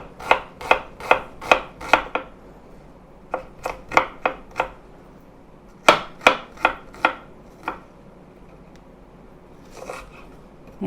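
A knife slices a quarter of an onion thinly on a board, a run of crisp, close cuts in quick bursts of four to six with short pauses between, clean and dry with no talking.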